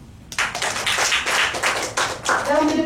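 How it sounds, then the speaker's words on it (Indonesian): A burst of applause from a crowd starts abruptly, dense clapping continuing for a couple of seconds, fairly loud and close. "Tepuk tangan."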